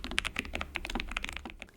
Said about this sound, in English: Keep watching and you will see and hear how this mic also handles my keyboard typing tests.